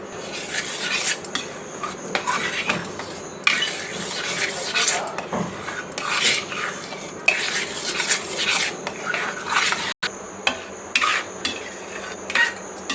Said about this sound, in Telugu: ఇప్పుడు స్టవ్ వెలిగించి స్టవ్ మీద పెట్టి కలుపుకుంటున్నాను